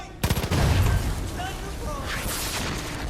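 A shot explosive barrel bursting in Far Cry 5 on the Bloody Landing assault map, a loud booming blast with crackling gunfire-like pops early on, then a sustained rumbling wash of debris and ambient noise.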